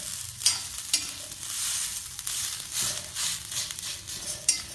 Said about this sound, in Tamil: கொஞ்சம் இந்த தண்ணி வத்துற வரைக்கும் வறுத்தா போதும். இந்த சத்தம் கேட்குது பாருங்கள்.